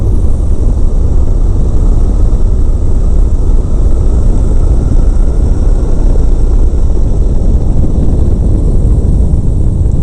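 Loud, steady engine drone and wind roar fill a flexwing microlight in flight as the power is reduced to idle, continuous and close, with no talk.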